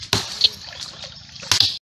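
River water sloshes and splashes close by, with two sharper splashes standing out over a steady watery hiss.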